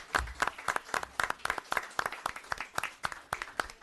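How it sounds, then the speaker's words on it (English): A small group applauding firefighters at a town board meeting, with sharp, distinct claps close by in an irregular, fairly sparse rhythm, quiet overall with clearly separated hand strikes. "Let's give them a big round of applause."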